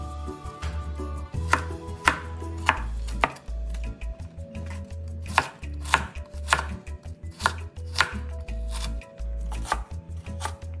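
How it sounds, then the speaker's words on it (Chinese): A knife chops peeled lotus root into small granules on a board, with crisp, evenly spaced strokes repeating close and clear with no talk. "再这样横竖切几刀，将莲藕切成颗粒状。"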